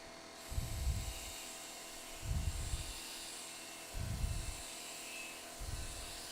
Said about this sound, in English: You'll notice the drill is turning in the opposite direction that the lathe is turning.